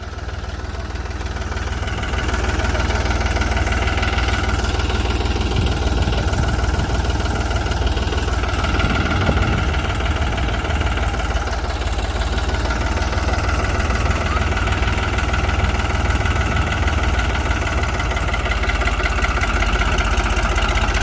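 A tractor's Fiat FPT S8000-series diesel engine idles close by, a loud, steady, throbbing drone with a faint knock that runs unbroken throughout, with no talking.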